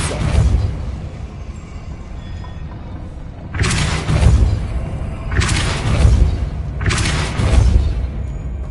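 Depulso spell blasts from the Hogwarts Legacy game strike as loud, deep booms, one at the start and then three more in an even sequence, each a short roaring burst that fades into a low rumble.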